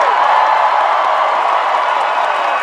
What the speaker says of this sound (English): I can't believe how many people love you and they're clapping for you